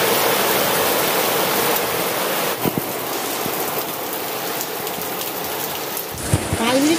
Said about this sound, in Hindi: আমার এখানে খুব বৃষ্টি পড়ছে টিপ টিপ করে আওয়াজ হচ্ছে